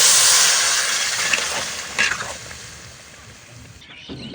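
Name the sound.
water poured into pot of fried rice, sizzling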